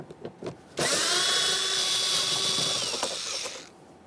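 A power tool with a 7mm socket spins out the interior door panel mounting bolts on a 2015-2020 Ford F-150. It gives one close, steady whirring burst of about three seconds, with small clicks of handling before and after.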